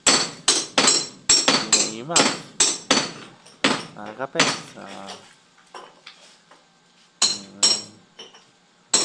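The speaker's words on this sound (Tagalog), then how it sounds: "Pukpok na naman ulit." A hammer pounds steadily at a construction site, sharp metallic blows landing in a quick regular rhythm close by, pausing briefly before resuming, with someone speaking between strikes.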